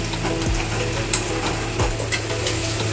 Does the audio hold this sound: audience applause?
no